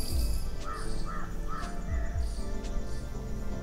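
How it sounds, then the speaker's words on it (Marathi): Crows caw repeatedly in a quiet green rural setting around a house, several harsh calls in a loose rhythm, fairly close, with other birds faint in the background. "फक्त पक्ष्यांची किलबिल, पक्ष्यांचा आवाज,"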